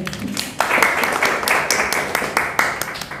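An audience at a podcast discussion on Pancasila and independence breaks into applause, a dense run of claps that carries on for several seconds close to the microphone.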